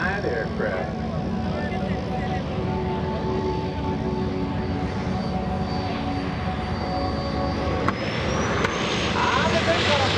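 A one-of-a-kind aerobatic airplane on its takeoff roll at the 2017 Rhode Island ANG Open House airshow, a steady loud engine roar that builds slightly toward the end.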